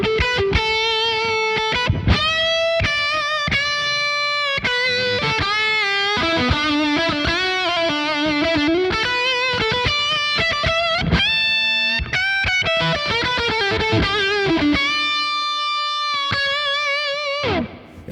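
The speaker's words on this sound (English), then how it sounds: "Let's throw some reverb on." A Revv Generator 100R MKIII guitar amp plays a lead line with reverb added, steady sustained distorted notes and bends for about eighteen seconds, loud and alone, ending with a ringing tail.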